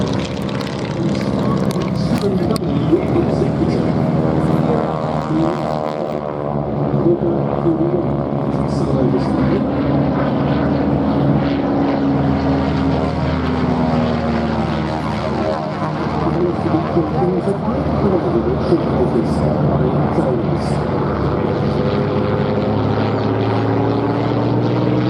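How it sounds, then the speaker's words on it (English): Interwar propeller aircraft, among them a Tramway Type R, getting airborne at the Duxford VE Day anniversary air show, a loud continuous engine drone that rises and shifts in pitch, with a commentator talking over it throughout. "Another set of interwar machines now getting airborne."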